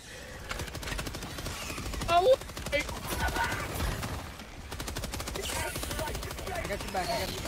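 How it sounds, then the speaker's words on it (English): Turret fire in Helldivers 2 rattles in rapid, steady bursts across the whole stretch at a moderate level, with a louder impact near the middle and voices talking over it. "I'm getting tore up by this stupid turret."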